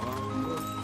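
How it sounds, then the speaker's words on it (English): Horse hooves clip-clop through a fantasy film scene in the Shire, a quick run of soft, even steps set against a held musical tone and ambient score. "After an awkward horse ride into cul-de-sac."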